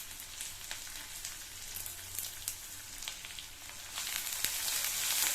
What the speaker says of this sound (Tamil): எல்லாத்தையும் நல்லா வதக்கி விட்டுக்கலாம்